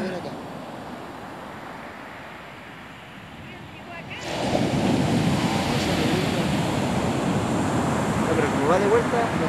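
Sea waves at Talcahuano, Chile rush up the shore, a muted wash that swells into a louder, continuous roar of surf with wind buffeting the microphone.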